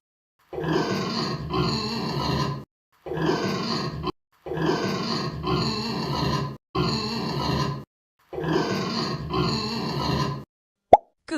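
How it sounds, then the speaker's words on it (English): A pig grunting, loud rough guttural bursts in five or six long bouts with short pauses between them, heard close and alone. "Pig."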